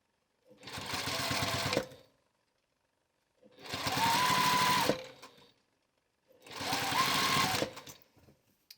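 Electric sewing machine stitching the fabric of a face mask: three separate runs of steady mechanical whirring, each about one to two seconds long with short pauses between, close and clear.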